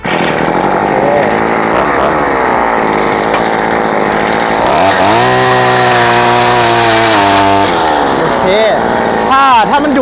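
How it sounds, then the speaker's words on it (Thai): A gasoline earth auger with an 8-inch bit drills into soil, its small two-stroke engine roaring loudly and steadily, dipping in pitch as it bogs under load and then revving back up. "เดี๋ยวเราจะมาทำการทดสอบเจาะให้ลูกค้าดูนะแล้วก็เปิดสวิตแล้วก็ดึงสตาร์ทได้เลย"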